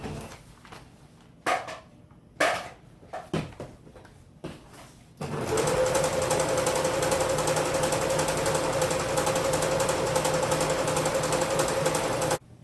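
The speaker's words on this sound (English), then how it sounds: "I'm going to go ahead and sew along that line" After a handful of scattered clicks and knocks, a sewing machine starts up and runs steadily for about seven seconds, stitching a seam along a marked line on the sleeve of a homemade PPE gown, loud and close.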